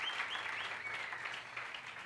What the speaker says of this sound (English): Can we please give Monique another round of applause?